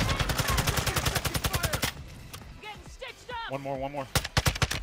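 Gunfire in Call of Duty Warzone 2 on Ashika Island: a rapid automatic burst, then a lull with players talking, and a few more close shots at the end.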